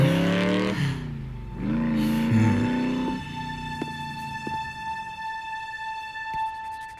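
A motorcycle engine revs loudly in an animated Transformers Prime scene, with a few sharp bursts over the first three seconds before giving way to sustained steady tones.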